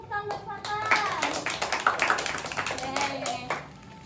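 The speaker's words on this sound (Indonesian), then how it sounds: "kasih tepuk tangan buat Fatan" Schoolchildren in a classroom clap for a classmate, a scattered run of light handclaps under children's voices and chatter, fading out at the end.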